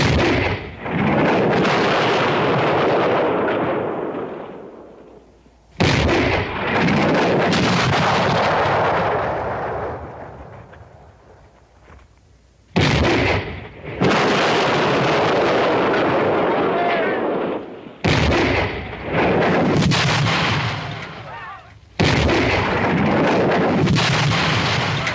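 In a 1967 western war film, artillery cannons fire several loud, heavy booms, each followed by a long rumbling decay and separated by brief pauses.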